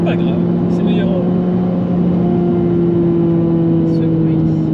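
Renault Clio 3 RS engine held at high revs, a loud close steady buzzing drone with a constant pitch and brief higher bursts over it.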